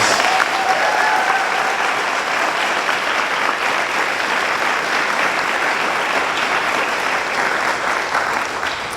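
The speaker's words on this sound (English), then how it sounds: "Please give all the speakers a large round of applause" An event audience gives the speakers a sustained round of applause, dense and even clapping filling the hall for several seconds without letting up.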